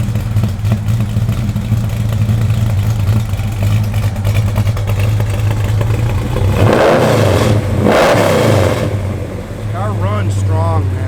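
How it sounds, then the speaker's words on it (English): A 1972 Plymouth Duster engine with a lumpy cam runs steadily up close, with a low throbbing idle that swells through a couple of revs near the middle before settling back, and people talk over it. "Yeah, you can hear that cam hitting, man."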